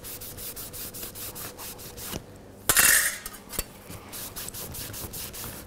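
Metal pieces being wiped and rubbed clean of oil before lap welding, a repeated scratchy rubbing stroke in a steady rhythm with a sharp metallic scrape and clatter midway, close up.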